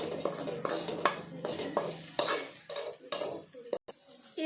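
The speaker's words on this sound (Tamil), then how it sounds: "நல்லா கிண்டி விட்டுக்கணும்" A metal spoon stirs and scrapes dried fish powder around a hot pan, giving repeated rhythmic clanks and scratches about every half second with a faint sizzle underneath, close and alone.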